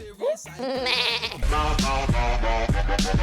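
Goat bleating repeatedly and loudly up close, a series of wavering bleats overlapping one another with rough, nasal cries against a noisy background.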